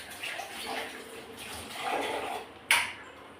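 Water splashes and swishes against the metal of a mixer jar being rinsed in a kitchen, a steady close wash with a sharper slosh near the end.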